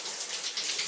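Shower spraying water onto a person standing under it fully clothed, a loud, steady close hiss of falling water.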